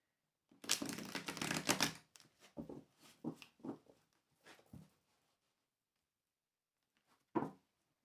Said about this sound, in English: let's give these a shuffle